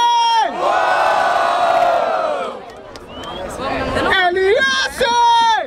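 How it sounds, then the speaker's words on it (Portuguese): A crowd at a freestyle rap battle in Barueri, Brazil roars and cheers loudly, with shouting voices rising and falling over the din. "Barulho para as rimas do Big Mike"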